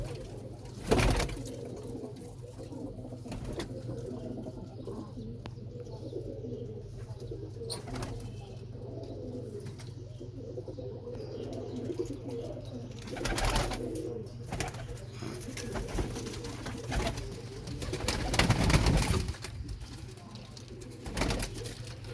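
Pigeons coo repeatedly in a loft of champion breeding pairs, soft low rolling calls recurring throughout against a steady background hum, with a few louder bursts and a brief flutter of wings near the end.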